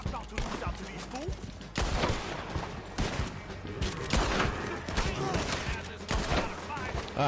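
Rapid gunfire crackles in Red Dead Online, a western shooting video game, with repeated loud shots and volleys over several seconds while someone talks over the game audio.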